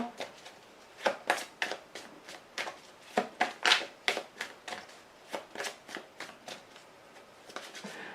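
Tarot cards shuffled by hand in a steady rhythm of crisp slapping riffles, close and clear, roughly twenty distinct bursts with no talking over them.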